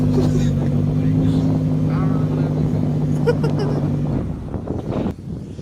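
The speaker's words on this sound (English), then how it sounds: "Find me another all-wheel drive car that can do donuts like that." A 2020 Lamborghini Huracan Evo spins all-wheel drive donuts, its engine holding a loud steady drone for about four seconds before dropping off, with wind buffeting the microphone throughout and a voice talking over it.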